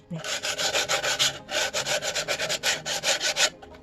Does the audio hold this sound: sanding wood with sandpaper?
yes